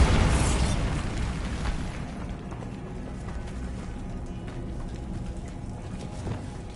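A Bombarda spell explosion in Hogwarts Legacy opens with a loud, low, rumbling boom. It then fades into a sustained rumbling tail and a low ambient drone.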